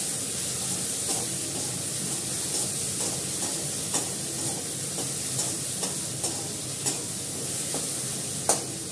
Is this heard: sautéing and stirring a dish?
yes